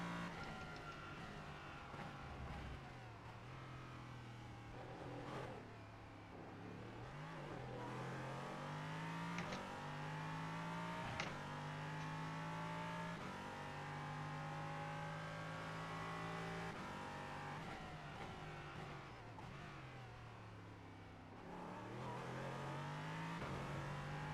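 Race car engines in iRacing, LMP-class prototypes on track, rev loudly through rising and falling gear changes for the whole stretch, with a brief dip as one engine lifts off before the roar climbs again.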